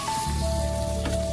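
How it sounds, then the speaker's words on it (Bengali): Onions frying in a pan, a soft steady sizzle with faint crackle, brief and alone. "পেঁয়াজ ভাজা হচ্ছে"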